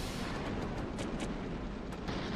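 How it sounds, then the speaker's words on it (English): Explosions in the vehicular combat video game Twisted Metal III, a dense, constant rumbling roar with bursts of crackling debris, loud and unbroken throughout. "We gotta hear all the explosions."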